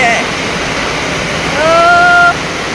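Heavy rain from a passing storm pours down in a dense, continuous roar close by, with a brief voice-like tone rising over it near the end.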